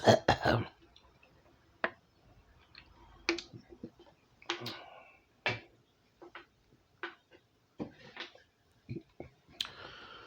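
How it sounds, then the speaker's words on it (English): A quiet room with a throat clearing at the start, followed by scattered soft clicks, taps and small mouth noises. "Let me clear my throat."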